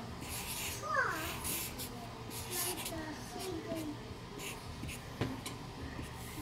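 A pen or marker rubs steadily across paper while drawing a curved ribbon on a cartoon holiday gift, with soft scratchy strokes close by and a voice babbling faintly in the background.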